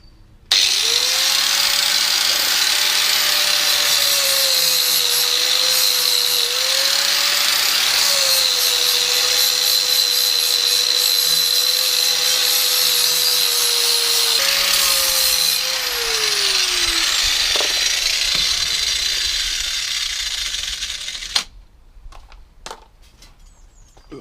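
Power tool cutting a metal rear harness bar for a Ford Fiesta MK6, a loud continuous whining grind with pitch that dips and rises under load, running for about twenty seconds before stopping, followed by a few faint knocks.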